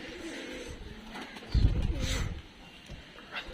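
Pigeons in a coop give a low, soft cooing burst midway, heard alongside faint background talk and ambient noise.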